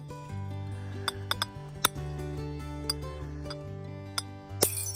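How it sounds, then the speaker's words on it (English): A few sharp glass clinks from the steel breaker tip of a tactical folding knife with an American flag design, tapped against glass, ring out over a steady low hum. "So we're going to test out the glass breaker right here."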